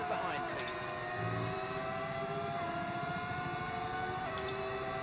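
An F1 car engine in the video game F1 25 whines at high pitch through gear changes, with other cars nearby in a steady, moderately loud racing drone.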